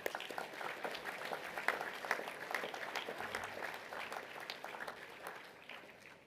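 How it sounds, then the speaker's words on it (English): Applause at a school assembly for Year 12 gold award winners, a steady patter of many hands clapping, moderately distant and continuous, without speech. "A round of applause"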